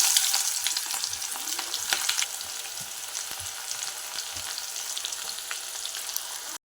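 Onions sautéing in oil with mustard seeds and cumin, a steady close sizzle with faint crackles and light stirring scrapes, with no voices.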